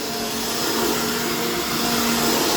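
A Dirt Devil 12 Amp Jaguar upright vacuum cleaner with a headlight runs at close range, giving a loud, constant motor whine and airflow roar with no pauses.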